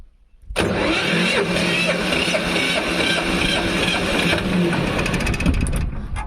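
A mini tractor engine turns over and fires for its first start after a cylinder head replacement and valve adjustment, then runs steadily and loudly close by.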